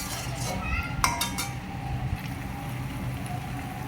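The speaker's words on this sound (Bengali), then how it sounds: "আমাদের কষানো প্রায় হাফ হয়ে আসছে, আর একটু কষিয়ে নিতে হবে ভালোভাবে" Meat and potato pieces cooking down in a pot with spices, stirred by a utensil that clinks and scrapes against the metal a few times over a low, steady background.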